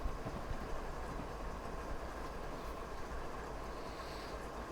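A long freight train rolls downhill through mountain foothills in a train simulator game, giving a soft, steady rumble of wheels on rail with faint rhythmic clatter, constant and fairly quiet with no talk.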